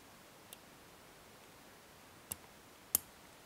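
Faint lock pins click as a lock is picked with Wendt Lockmaster picks, three small sharp ticks spaced irregularly over a quiet background, the last one loudest.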